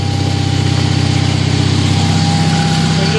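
A Kohler 5000-watt generator engine runs on gasoline, a steady, loud mechanical drone with a constant low hum that holds unchanged for the whole stretch, with no talking.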